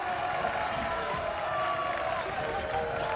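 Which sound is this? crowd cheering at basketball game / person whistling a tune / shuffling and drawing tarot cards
crowd cheering at basketball game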